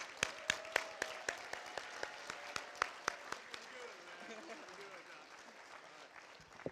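Audience at a charity benefit gala clapping, faint and distant, with sharp evenly spaced claps at first that soften into a looser, fading patter.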